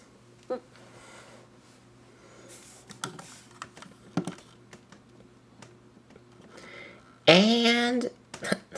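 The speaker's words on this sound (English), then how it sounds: "the trigger here is functional, and it does make a clicking sound" A few sharp, close plastic clicks from the trigger of a Transformers Classics Megatron toy gun, spaced irregularly, with a brief louder burst of sound near the end.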